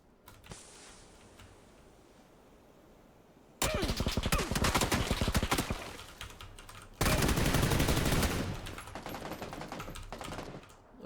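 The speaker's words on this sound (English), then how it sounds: "Looks like someone's shooting at him from behind." Gunfire in the battle royale game PUBG comes as two long bursts of rapid automatic shots, loud and close, separated by a quieter stretch of low ambient noise.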